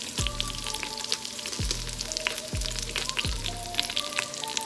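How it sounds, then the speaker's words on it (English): Beef short ribs sizzle and brown in a hot pot, a steady close frying crackle broken by a few soft low thumps as the meat shifts. "So you want to saute it, brown it on both sides"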